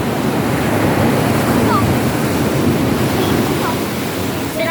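Rough sea surf churning during typhoon flooding in Palawan, a dense, continuous roar of waves and wind rushing close to the microphone with no pause, briefly touched by faint higher sounds near the end.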